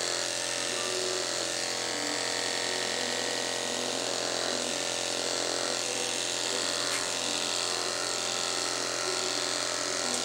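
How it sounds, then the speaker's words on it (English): Electric pet clippers buzzing continuously through a miniature schnauzer's black coat, a steady close hum with slight texture changes as the blade moves through the hair. "This is just straight clippering."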